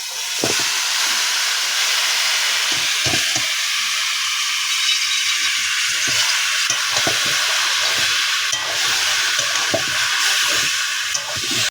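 Wet taro leaves drop into a pan of fried chillies and hiss loudly, a steady broad sizzle with scattered crackles and stirring knocks throughout, no talking.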